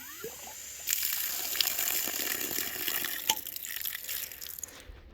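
Water from a tap on a rural property under construction starts after a brief pause and runs in a steady, close splashing stream, with occasional drips and knocks, until it cuts off at the end.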